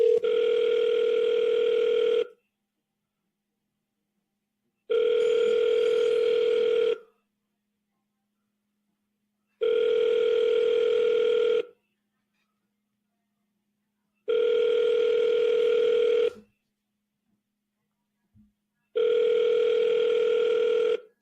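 A telephone ringback tone sounds on an outgoing call, with five evenly spaced two-second rings separated by silent gaps, loud and clear with nothing else around it.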